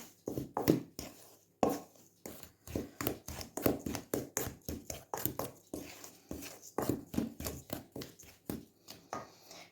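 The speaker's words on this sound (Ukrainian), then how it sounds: "Це все я перемішую, цю суху масу нашу." A spoon or whisk moves through dry cake mix in a bowl, making quiet, rhythmic scraping and tapping strokes in steady repetition, close by with no talk.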